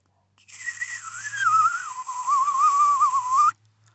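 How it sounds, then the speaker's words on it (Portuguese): A single sustained mouth whistle, a wavering mid-pitched tone that slides down and back up for about three seconds, clear and close, then stops. "som bem característico do assobio, que é dessa maneira"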